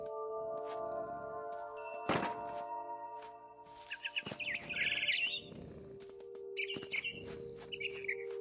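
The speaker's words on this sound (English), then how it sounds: "Then I heard chirping outside my window." Barn swallow chirping in the game What Remains of Edith Finch, short bright chirp bursts repeating a few times over a steady ambient hum, with a sharp thunk early on.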